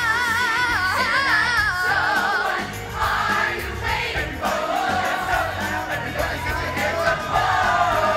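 A crowd at a school musical cheers, whoops and yells loudly and continuously over music playing throughout, sounding close and energetic.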